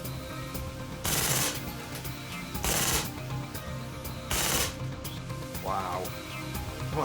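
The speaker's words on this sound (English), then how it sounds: "Let's drop the mag and do a full auto." An HPA airsoft gun fires three short full-auto bursts, each a loud, rapid rattling hiss about half a second long, separated by pauses. A brief voice is heard near the end.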